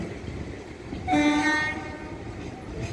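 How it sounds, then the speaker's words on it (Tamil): An electric local train pulls away from a station and sounds its horn once, a clear half-second tonal blast over the steady rumble of the moving carriages. "இந்த லோக்கல் ஸ்டேஷனில் வந்து நின்று ஒரு நிமிஷம் நின்று பேசஞ்சர் இறங்கினதுக்கப்புறம் ஸ்டார்ட் ஆகி போகுதுங்க"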